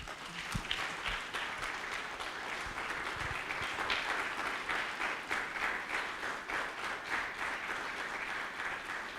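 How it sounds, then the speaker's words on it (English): A conference audience at the Africa Cassava Conference applauds the organizing team, a sustained, fairly soft wash of many hands clapping evenly for about nine seconds. "Please, can you clap for the whole team?"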